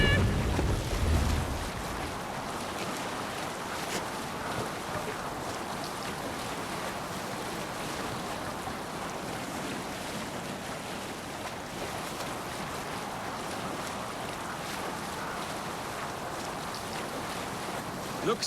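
A sailing ship at sea in the Assassin's Creed Valhalla video game: steady wind, rushing water and waves against the hull in a continuous wash, with a brief voice at the start.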